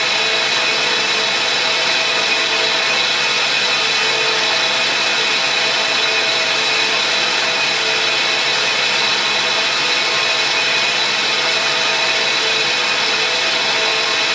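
A countersink shank is ground on a workshop grinder, giving a steady, continuous high grinding whine that stays close and even throughout with no talking.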